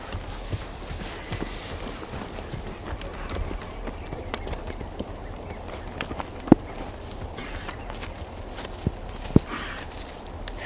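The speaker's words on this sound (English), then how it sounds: "Get a couple of horses," Horses walk outdoors, their hooves clip-clopping in an irregular rhythm with a few sharper knocks, moderately close over steady background noise.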